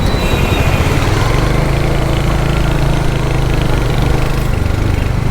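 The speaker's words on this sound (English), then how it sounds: "the exhaust note is really amazing, guys. I think you can hear it in the video" Royal Enfield Hunter 350 motorcycle exhaust, a steady loud low thumping engine note held close throughout without speech.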